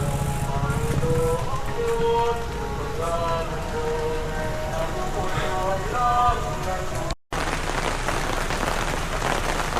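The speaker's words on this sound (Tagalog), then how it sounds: "Nakasilong tayo dahil medyo malakas ang ulan." Steady, heavy rain patters loudly on a shelter nearby during a bike ride in Sto. Tomas, Batangas, with a voice talking over it and brief sounds of a crowd at Mass in the background.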